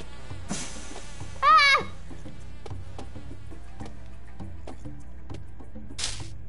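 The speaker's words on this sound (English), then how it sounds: "These bees." Bees buzz in the horror video game Goosebumps Dead of Night, short whining insect drones rising and falling in a few separate bursts over a low steady game ambience, one loud close swell amid fainter ones.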